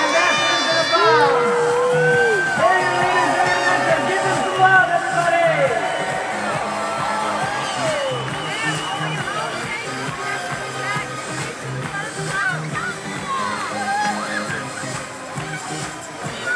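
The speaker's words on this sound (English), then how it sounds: "Let's give one more big round of applause, guys, for our brand new ambassadors of the bar" A large conference audience at a celebration for new ambassadors cheers, whoops and shouts continuously and loudly, a dense crowd roar that holds steady throughout.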